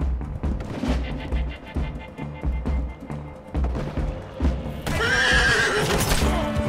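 A horse whinnies loudly in the Western video game Red Dead Redemption 2, amid clip-clopping hooves and bursts of gunfire, with a sharp blast near the end.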